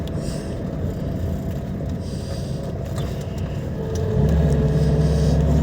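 A car drives along a city road at about seven in the morning, its engine and tyre rumble steady and close inside the cabin, swelling louder with a low droning hum near the end, with no talk.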